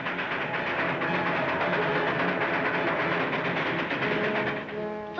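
A train rolls by with a continuous rumble and clattering wheels, a faint whistle-like tone emerging near the end, no voices.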